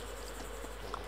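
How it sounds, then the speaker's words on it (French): Flies buzz around a corpse in the video game DayZ, a faint, steady insect drone that runs throughout, then is cut off by a brief loud burst at the very end. "il y a des mouches, il y a un cadavre derrière"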